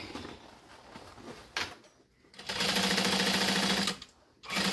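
Sewing machine running bursts of stitching along the seam of a bucket bag, a loud close whir in two main runs separated by a brief pause, alone without talk.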